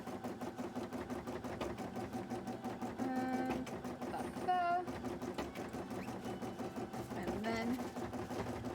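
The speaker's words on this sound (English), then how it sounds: "So sew them all together, do a top stitch on all of them, and then sew the 2 halves together." A sewing machine runs steadily while joining cosplay pieces, its continuous whirring stitch going throughout, with a person talking over it.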